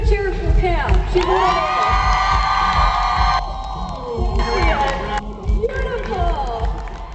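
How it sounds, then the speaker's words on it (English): A crowd cheers and whoops loudly at a fashion show, with children shouting among the sustained roar of voices that rises and falls over several seconds. "I think we need a cheer for Pam."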